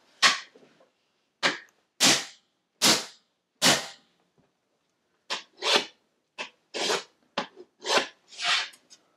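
A piece of AC6 laminate flooring takes a durability test: about a dozen sharp, loud impacts and scraping strikes land close by in uneven bursts, with brief silences between and no talking.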